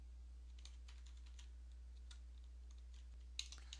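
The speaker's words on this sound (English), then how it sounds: "I'm just going to type in a number." Quick, light keystrokes on a computer keyboard enter a number in Word 2007, a short run of soft close clicks over a quiet background.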